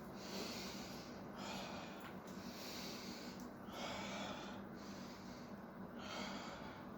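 Deep, slow breaths are drawn and pushed out close by as a calming exercise, each breath a soft rushing sound repeating at a steady, unhurried rhythm with no talking.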